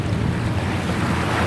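Sea waves wash steadily at the shore, heard close as a continuous rushing surf with wind buffeting the microphone. No one speaks.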